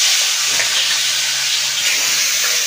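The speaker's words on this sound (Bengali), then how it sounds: "ফোড়ন দিয়ে আমি এর মধ্যে ইলিশ মাছের মাথাটা ভেজে নেব" Hilsa fish head frying in hot oil with radhuni and black cumin seeds, a loud, steady close-up sizzle and hiss that never lets up.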